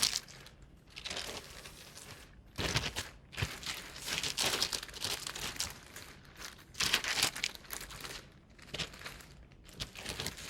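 Crinkly plastic packaging crackles and rustles up close while a collectible statue is unboxed, in steady bursts with brief pauses, no talking.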